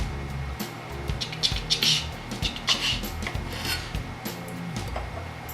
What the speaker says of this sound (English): We're going to trim the top off.